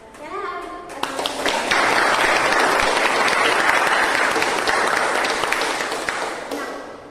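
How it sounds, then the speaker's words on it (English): A meeting audience breaks into a round of applause that starts with a few scattered claps, swells into full, loud, steady clapping and then fades slightly toward the end. "Can I have a round of applause?"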